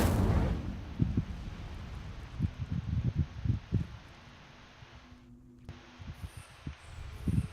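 A fire spell cast in the video game Hogwarts Legacy: an opening whoosh of flame followed by a series of low thumping bursts and crackles, fairly close, with no talk over it.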